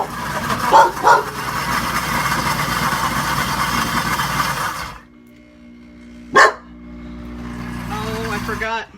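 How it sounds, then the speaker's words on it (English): A dog barks a few sharp times over the whirring, heating motor of a kitchen blender making caramel sauce, the motor cutting out midway, then another bark and the machine resuming. "My dog likes to bark at the blender."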